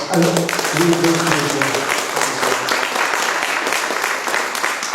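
An audience at a fantasy film festival award Q&A applauds, continuous crowd clapping throughout, with a voice speaking briefly over it at the start.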